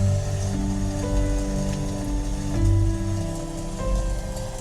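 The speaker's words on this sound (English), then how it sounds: "rainy day" A rainy day nature soundscape plays through a Hyundai Elantra N's audio system, a steady, soft patter of rain blended with low sustained tonal drones, no voices present.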